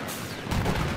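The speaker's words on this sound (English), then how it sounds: "Watch this, guys. It's called airstrikes." Airstrike explosions in the video game Battlefield 4: a single deep, heavy blast lands halfway through a brief moment of game noise and rumbles loudly to the end.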